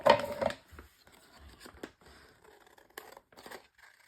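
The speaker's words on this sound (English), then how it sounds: "Oh wait, these are my fabric scissors." Fabric scissors snip a few times amid light rustling and crinkling of material, close by and fairly quiet, with short pauses between cuts.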